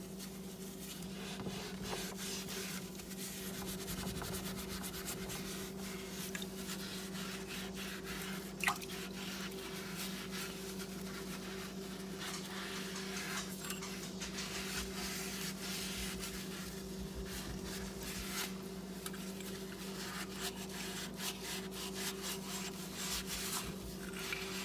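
A purple glass insulator found in a river is scrubbed clean in water, with a steady wet rubbing and dripping that runs throughout, close and even, over a constant low hum.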